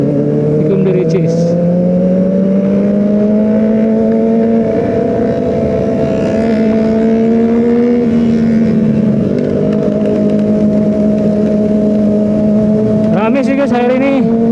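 A group of about fifteen motorcycles idling and revving together at a Sunday morning ride meetup at Jakabaring, steady engine drone throughout with a sharper rev near the end, voices talking over it.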